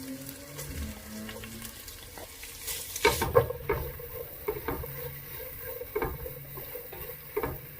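Garlic and onions go into a pan for laing, with a soft sizzle that sharpens after a few seconds, joined by scattered clinks and scrapes of stirring, fairly quiet and close.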